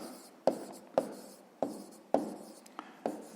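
Pen strokes on paper as a sixth-grade math solution is written out by hand: sharp scratchy marks every half second or so, close and quiet, with faint scribbling between them and no talk.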